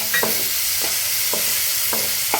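A small chopped tomato tossed into a hot pan of vermicelli baath and stirred, a constant close sizzle with soft repeated scraping strokes of a spoon.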